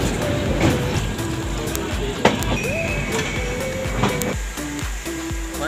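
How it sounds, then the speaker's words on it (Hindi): A Humsafar Express train pulls out of Deoria Sadar railway station, giving a continuous rushing rumble of rolling stock with scattered squeals and clanks, steady and fairly loud throughout. "फाइनली 5 मिनट हॉल्ट के बाद अपनी ट्रेन पूरी मुंबई के भीड़ लेके निकल पड़ी है देवरिया"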